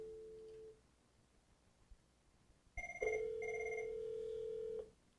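A telephone ringback tone follows an outbound local call dialed through a Cisco UCME dial plan, steady electronic ringing bursts over a quiet background.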